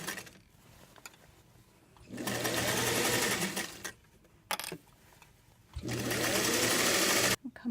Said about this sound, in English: Now we're sewing the last side seam